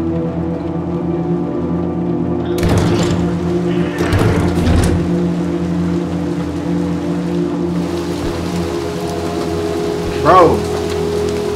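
Steady rain in the video game Little Nightmares 2 hisses as a constant wash behind a low ambient hum, with brief louder passages and someone speaking briefly over it.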